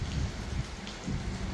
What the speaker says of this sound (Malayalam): ഇപ്പം രാവിലെ തന്നെ മഴ ഉണ്ട്.